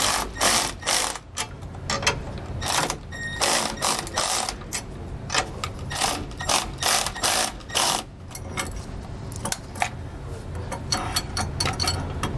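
Ratchet wrench clicking in quick bursts while loosening a bolt on a Roadmaster Reflex steering stabilizer mount on a 2019 Newmar Bay motorhome, with short pauses between the close, sharp runs of clicks.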